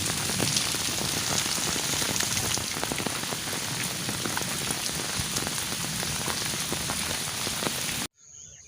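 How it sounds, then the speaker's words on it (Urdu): Heavy stormy rain in Dadyal, Azad Kashmir, pours steadily as a loud, dense hiss with close drops pattering on surfaces, cutting off abruptly near the end. "طوفانی بارش ادھر آئی تو ادھر گئی"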